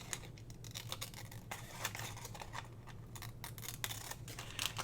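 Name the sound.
cutting paper with scissors along the score line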